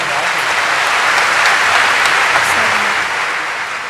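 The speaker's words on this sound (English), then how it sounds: "I think you need to really pepper yourself and give a real big applause to the children." Big, sustained applause from a large audience at a tribute event, broad dense clapping that holds steady and loud for the whole stretch, easing slightly toward the end.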